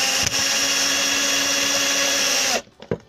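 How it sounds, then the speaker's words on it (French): A power drill pierces a part while a camera slider is being built, whining loudly and continuously for about two and a half seconds before cutting off, followed by a couple of sharp handling knocks. "Et on transperce la pièce."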